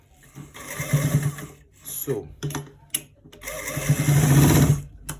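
A sewing machine stitches a trouser front pocket in several short bursts separated by pauses, the last run longest, close and clear.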